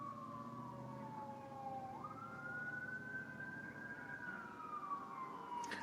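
Fire truck sirens wail outside, rising and falling in a steady sweeping tone, faint and far off over a constant low background hum, with no one talking.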